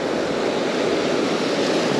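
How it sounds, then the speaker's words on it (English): Ocean waves breaking on a beach at a fishing spot, a steady loud broadband wash of surf with wind noise throughout, no voices. "Coming in, that's why the waves went up."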